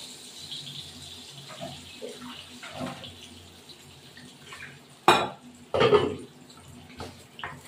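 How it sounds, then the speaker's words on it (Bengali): Water poured into a ground paste of poppy seeds, white sesame and green chilli, a short splashing pour with a few clinks of a utensil against the vessel, close and otherwise quiet. "এর মধ্যে একটু জল দেবো"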